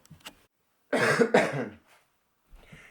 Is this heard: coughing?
yes